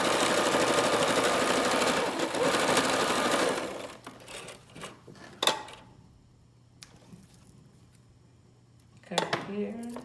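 Steady, fast mechanical whirring of a sewing machine stitching a fabric face mask fills the first four seconds, then gives way to quieter clicks, thumps and handling noises nearby.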